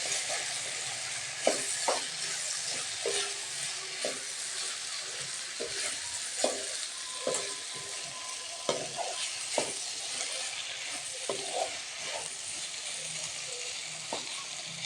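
Taro roots and potatoes fry in a pan over raised heat, giving a steady broadband sizzle with irregular scraping and stirring clicks of a spoon against the pan throughout, fairly close and without talk.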